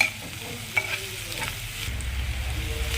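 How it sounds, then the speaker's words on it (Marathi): Onion sautéing in a pan for soybean chilli, a close steady sizzle with scraping stirs from a utensil, continuous and fairly loud with no voices. "थोडा कांदा परतू द्यायचा"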